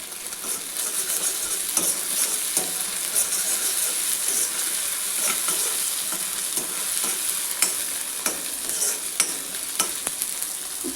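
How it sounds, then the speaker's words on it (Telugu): Onions frying with ginger-garlic paste give a loud, continuous crackling sizzle, and a spoon scrapes and clinks against the pan in frequent stirring strokes throughout. "ఉల్లిపాయలు వేగాక కొంచెం అల్లం వెల్లిపాయ పేస్ట్ వేసేసుకోవాలి"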